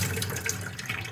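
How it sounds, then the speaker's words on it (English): Hot water flows from a household faucet once supply returns after a copper pipe leak repair, a steady, close splashing stream lasting about a second, with no talking. "Hot water's on."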